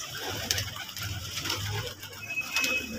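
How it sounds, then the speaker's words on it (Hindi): Pigeons settle into their rooftop coop, giving soft, low, repeated cooing that stays faint against a quiet background with light scattered rustles. "ये देखें दोस्तों ये कबूतर खुड्डे में जाना शुरू हो गए हैं"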